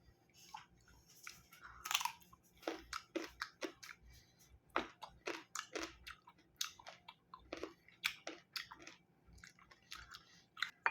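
Unripe green mango being bitten and chewed up close, a run of crisp, wet crunches and bites at an irregular rhythm, quiet with no talking.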